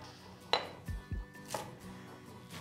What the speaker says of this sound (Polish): i posiekam koper